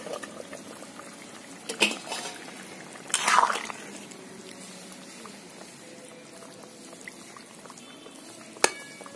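Potatoes and papaya boil in a covered pot, a faint, steady simmer broken by a couple of sharp metallic clanks and a short louder rush of liquid as the lid is handled.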